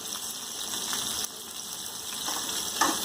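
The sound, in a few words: green chillies, curry leaves, coriander and turmeric frying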